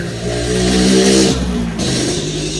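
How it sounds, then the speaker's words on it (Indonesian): A noisy motorbike passes close by, its engine swelling to a loud revving peak and then dropping away within a few seconds. "Motor lewat berisik."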